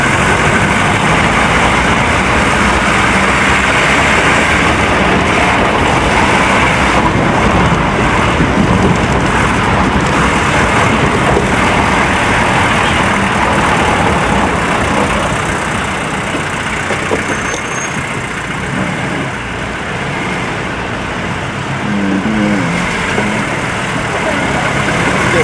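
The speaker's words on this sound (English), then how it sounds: "This place has a lot of cars." A busy Italian town street in 1989 carries a constant dense roar of car and truck engines idling and passing nearby, loud and unbroken throughout.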